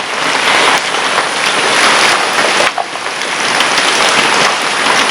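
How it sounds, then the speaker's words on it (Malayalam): Heavy rain pours down steadily outdoors where birds are kept, a loud, close, dense hiss that stays constant with a brief dip partway through and no voices. "നമ്മൾ വീഡിയോ എടുക്കുന്ന ദിവസം തന്നെ ഭയങ്കര മഴയായിപ്പോയി"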